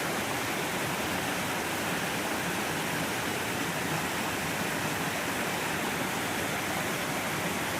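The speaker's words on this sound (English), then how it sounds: "Second waterfall is over there." Donkey Creek waterfall rushes in a steady, dense roar that stays loud and unchanging throughout, with no voices over it.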